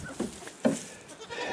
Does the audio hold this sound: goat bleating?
yes